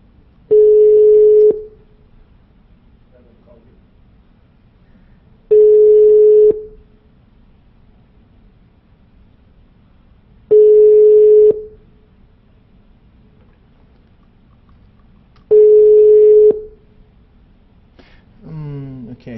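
Telephone line tone on a call, a steady single pitch sounding four times for about a second each with long silent gaps between, clear and close, with a voice starting up right at the end.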